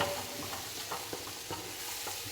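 Peanut chutney with raw green tomato heats in a pan, giving a soft, steady sizzle with a few faint stirring scrapes, quiet and close.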